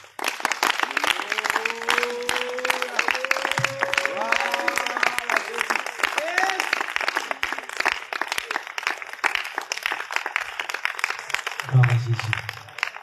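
A church congregation at a night healing prayer service in Grand-Bassam applauds and cheers for Jesus, with dense, continuous clapping and crowd noise running throughout, while a voice sings or talks over it.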